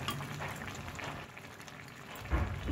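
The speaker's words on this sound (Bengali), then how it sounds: "ঘি সব কিছু দিয়ে আর একটু ফুটিয়ে নিচ্ছি" A curry of new potatoes, cauliflower and soya chunks with ghee, coriander leaves and chaat masala bubbles in a pan, a soft steady simmering fizz with a few louder pops near the end, quiet and close.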